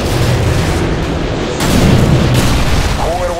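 A missile strike in the video game Modern Warfare 2 sets off a loud, dense, rumbling explosive roar that swells midway, with a brief radio-style voice near the end.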